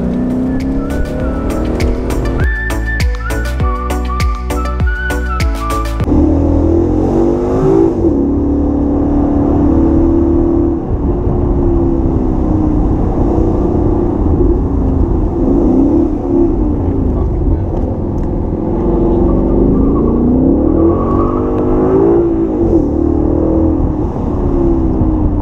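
A Ford Mustang cruising on the Pacific Highway, its engine droning loudly and continuously with shifting pitch, plus a brief burst of music near the start.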